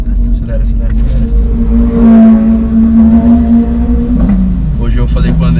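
A car engine revs steadily with a rising, sustained drone that swells in the middle and then eases, loud and close beneath people chatting in Portuguese.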